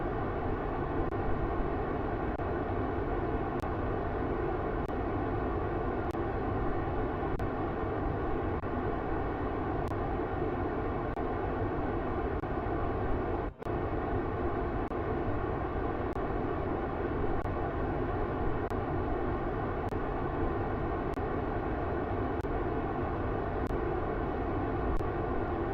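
A steady, loud rocket engine roar in a space video game holds constant for the whole stretch, with one brief dropout near the middle and no talking.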